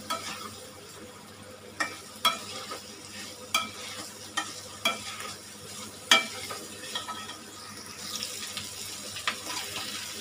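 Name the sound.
stirring food in frying pan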